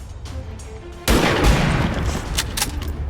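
Gunfire in the video game XCOM 2: a sharp, loud shot bursts in after a quiet second, followed by a sustained roaring tail and a few crackling follow-up impacts, with no talk.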